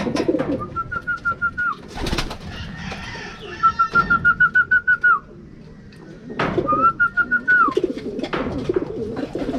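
Racing pigeons coo in repeated rhythmic bursts, three clear sequences of soft pulsing calls close by, with light rustling and clattering between them.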